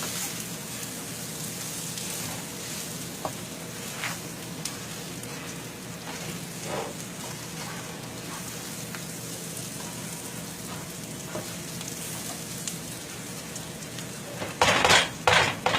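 Two cups of barley toast in a pot for a sausage risotto-style dish, giving a steady dry crackling sizzle with scattered soft clinks, then a loud burst of scraping and clattering near the end.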